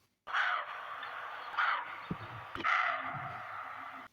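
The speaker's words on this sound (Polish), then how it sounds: "Możliwe, że usłyszeliście taki odgłos w lesie i nawet nie wiedzieliście, że należy do zaniepokojonej sarny." Three hoarse, harsh alarm barks from an alarmed roe deer in a forest, spaced a second or so apart, loud and fairly close, with a couple of soft thumps between them.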